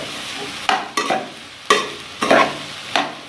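Rice being stirred and fried in a pan for restaurant-style Chinese fried rice, with a steady sizzle broken by several sharp scraping strokes of a spatula against the metal.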